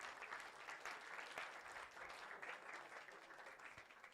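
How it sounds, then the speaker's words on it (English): An audience at a religious celebration for the birth of Imam Ali applauds in a dense, steady wash of clapping that carries on evenly for the whole stretch. "Give a round of applause to them."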